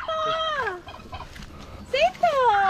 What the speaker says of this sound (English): There's turkeys.